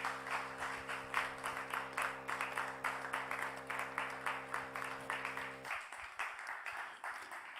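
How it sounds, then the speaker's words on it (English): A conference audience applauds a presenter named James with steady, moderately loud clapping that runs for several seconds, accompanied by a continuous background hum, then cuts off abruptly and leaves only faint scattered claps. "let's give James a big Shibanic round of applause"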